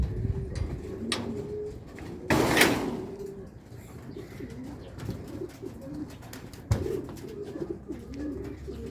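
Racing pigeons coo softly in a loft after feeding, with low throaty calls repeating through the clip alongside wing flutters, a sharp clatter near the start and scattered knocks from the birds moving about.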